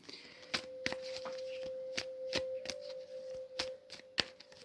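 Tarot cards shuffled by hand in a quiet room, a series of sharp, close riffling snaps and soft slides repeating at an irregular rhythm, with no talking.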